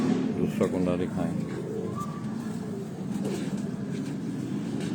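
A pigeon coos in soft, low rolling calls amid steady background noise, with people talking nearby.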